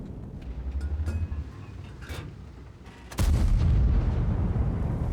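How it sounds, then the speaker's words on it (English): A tank engine rumbles in World of Tanks, then a single heavy cannon shot booms out with a sharp crack and a sustained roaring low aftermath, loud and close. "I'm just going to try and put one shot in"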